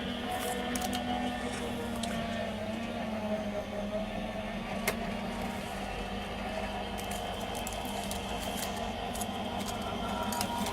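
A craft die-cutting machine runs a piece through with a steady, even mechanical rumble and hum, with faint clicks, lasting the whole time at moderate volume.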